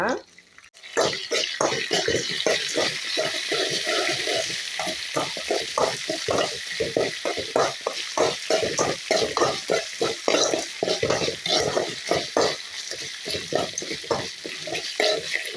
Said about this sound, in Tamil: இப்போ கருவேப்பிலை போட்டு நல்லா வதக்கிக்கலாங்க